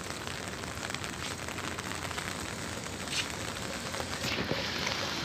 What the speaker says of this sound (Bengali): আজকে মনে হচ্ছে সারাদিনই গুড়ি গুড়ি বৃষ্টি হবে।